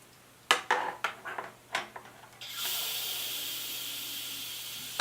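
An Instant Pot releasing pressure after cooking chicken gives a few sharp clicks and taps, then a steady loud hiss of escaping steam that keeps going to the end.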